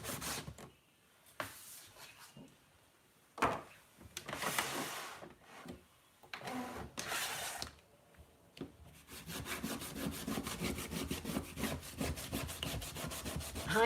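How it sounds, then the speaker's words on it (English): A cloth rubs across a craft cutting mat in several short bursts, close and fairly soft, followed by a steadier, denser stretch of rubbing toward the end. "I'm just going to give this mat a little wipe with this white"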